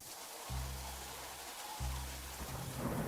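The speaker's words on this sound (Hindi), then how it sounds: "मैं बारिश से बचने के लिए अंदर जा रहा हूँ।" Heavy rain pours in a steady wash while two deep rumbles of thunder roll in, one near the start and another midway, both loud and close, with no voices.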